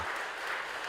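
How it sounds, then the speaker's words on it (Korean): Worshippers applaud at the dedication of the new Hyoja-dong Catholic church building and Pieta square. A brief, dense burst of steady clapping from many hands, at moderate volume, with no voices. "새 성전과 피에타 광장에는 뜨거운 박수 소리가 울려 퍼졌습니다"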